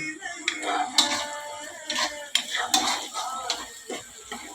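A spoon scrapes and clinks against a cooking pot as egg khichuri is stirred, with frying onion and chili underneath. The contacts come in irregular, close, moderately loud bursts over a faint sizzle.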